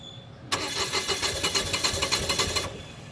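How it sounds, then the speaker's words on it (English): An Onan Quiet Diesel 7500 generator cranks for about two seconds with a rapid, rhythmic starter churn, then stops abruptly without catching. The sound is fairly close and stands alone. "it's the Onan Quiet Diesel 7500, right? And when you start it up,"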